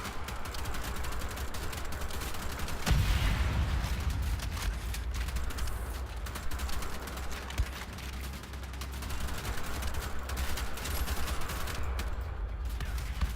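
Burst-fire gunfire in the shooter Wolfenstein The Old Blood on PC. One sharp, loud blast is followed by continuous rattling shots and clatter over a low rumble, with no talking.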